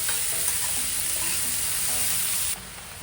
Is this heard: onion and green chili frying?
yes